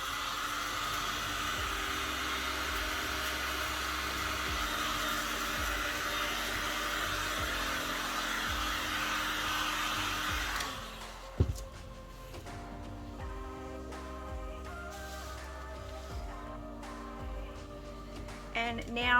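A hair dryer blows steadily and close for about ten seconds over a painted pumpkin, then switches off, leaving quiet handling sounds and faint clicks.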